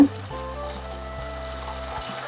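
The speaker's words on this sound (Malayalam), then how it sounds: "ഇതെല്ലാം കൂടെ ഒരു മുപ്പത് സെക്കൻഡ് ഹൈ ഫ്ലെയിമിലൊന്ന് വഴറ്റി കൊടുക്കുക" Vegetables sautéing over a high flame in a pan give off a steady, close hiss and sizzle that holds evenly throughout, with no voices.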